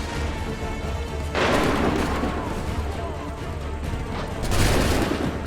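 Musket volley fire in Assassin's Creed 3, a dense crackling fusillade of many guns going off together in bursts, loud and close, with shouted commands around it.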